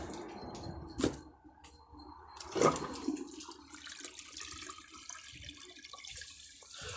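A 1992 Lamosa Sahara toilet flushes with a washcloth in the bowl: a sharp burst of rushing water, then a second surge and a steady gurgling drain that fades slowly, nearby and fairly loud.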